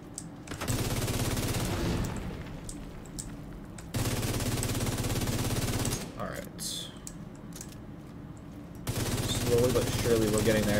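Rapid automatic weapon fire from The Division 2 runs through most of the stretch in dense sustained bursts, with a short lull midway, a gamer's voice talking over parts of it.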